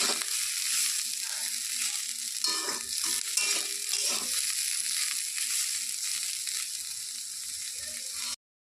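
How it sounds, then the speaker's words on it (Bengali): Bitter gourd frying in a pan as it is stirred, giving a steady bright sizzle with scraping and stirring scrapes throughout, fairly close, with no talking. "তো ঢাকনাটা খুলে নিয়েছি নেড়ে চেড়ে দিচ্ছি লাল লাল হয়ে এসছে প্রায়"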